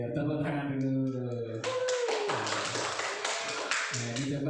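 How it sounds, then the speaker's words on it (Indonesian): A group of teachers claps together during a positive-culture training session: a short spoken passage, then a burst of rhythmic, fairly close hand claps that runs about three seconds, with a voice occasionally cutting through. "Manajer, tepuk tangan dulu."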